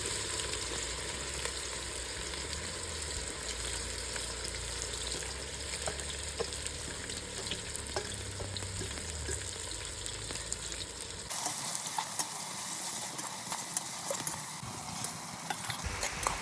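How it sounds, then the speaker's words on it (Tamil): Cardamom, cloves, cinnamon and onions sautéing in oil for a homemade biryani, a steady close sizzle with occasional stirring clicks that shifts in tone near the end, with no talking. "இதில் நாம் பிரியாணியில் ஏலக்காய், கராம்பு, கருவாப்பட்டை எல்லாத்தையும் போட்டு முதல் வதக்குவோம்."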